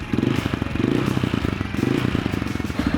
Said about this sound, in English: We can rev with the clutch in.